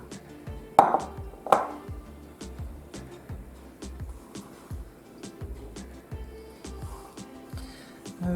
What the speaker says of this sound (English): The green onion is cut.